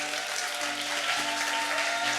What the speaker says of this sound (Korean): 최태성 선생님 박수로 모시겠습니다.